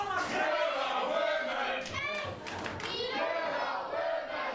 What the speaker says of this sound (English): Now the crowd chanting "You're a woman"